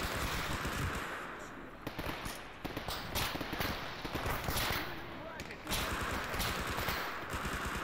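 Rapid gunfire from the video game STALKER, a dense run of sharp shots in bursts with brief gaps, loud and close against background battle noise.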